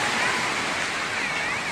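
Waves breaking at Watu Ulo / Papuma south beach in Jember, a steady, loud, dense wash of surf filling the whole moment without pauses or voices.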